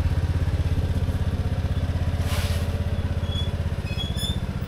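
Small motorcycle engine idling close up just after starting, with a steady, fast, even chug throughout and a light mechanical clatter on top.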